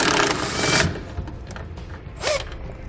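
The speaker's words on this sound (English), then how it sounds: "We can then remove the bolt with a 13mm socket." A 13mm socket wrench turns a bolt out with a burst of mechanical ratcheting and creaking, close and loud at first, then quieter scraping and a final squeak.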